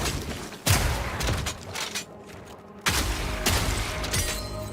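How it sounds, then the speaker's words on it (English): A bomb blows up during video game combat, a sudden loud blast standing out from constant busy game noise, followed a couple of seconds later by a second similar burst. "That's a bomb."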